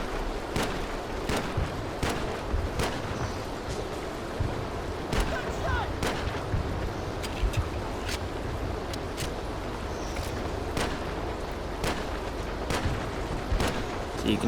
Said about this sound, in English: I'm wasting several clips, or several mags I should say, trying to get rid of this guy at long range